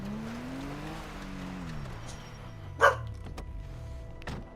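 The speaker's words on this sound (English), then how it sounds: "Stop barking, Clover." A single sharp dog bark cuts through steady GTA Online engine and road noise, with a faint second yelp near the end.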